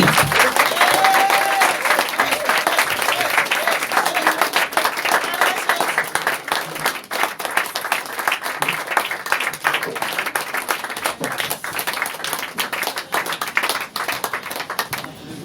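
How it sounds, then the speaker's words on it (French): A church congregation applauding during a service: loud, sustained, dense clapping from a crowd, continuous for the whole stretch and close. "On acclame le Seigneur béni."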